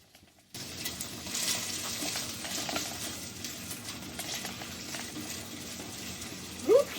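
Onions dropped into a hot pan of olive oil for chicken cacciatore set off a soft, even sizzle after a brief quiet start, with a short louder clink near the end.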